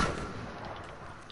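Rifle fire in The Last of Us gives a quiet, booming rumble of gunfire that fills the short moment without any voices.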